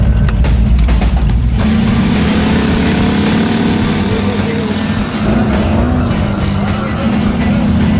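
Rear-engine mini truck launching on an autocross course, its engine droning loud and steady with a buzzy, strained note as it drives off, heard close up.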